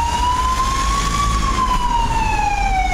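An ambulance siren wails loud and steady in traffic, its rising and falling tone sweeping slowly over a constant rumble of road noise.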